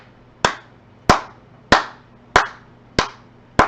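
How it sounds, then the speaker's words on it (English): Hand claps from people, six sharp, evenly spaced claps about every 0.6 seconds, close and loud with no talking. "Those are some good claps right there, son."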